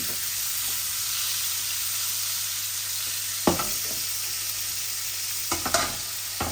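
Small salted pieces of rohu fish, marinated with lemon juice, sizzle steadily in a hot pan, a constant frying hiss with a couple of sharp clatters as pieces are stirred or moved.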